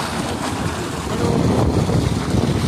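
Water gushes hard from a 10 hp solar-powered pump run by sixteen 400-watt panels outdoors, a loud, continuous rushing roar mixed with wind buffeting the microphone.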